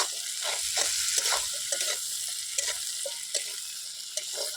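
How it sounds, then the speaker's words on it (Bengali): Crab pieces frying in oil in a pan over a wood fire, a steady broadband sizzle with soft stirring scrapes and small crackles recurring throughout, close and continuous, no talking. "কাঁকড়াটা আমার ভাজা হয়ে আসছে"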